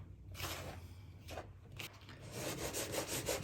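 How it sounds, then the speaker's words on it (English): Butter being rubbed into flour by hand in a bowl for pizza dough, soft irregular brushing and rustling strokes up close, quiet, with no talking. "rub the fat into the flour until it resembles breadcrumb"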